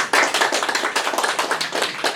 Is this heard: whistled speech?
no